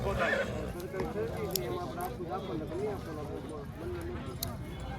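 A Kathiawadi stallion whinnies in a long, quavering series of neighs, with hooves clip-clopping and someone talking underneath, amid outdoor background noise.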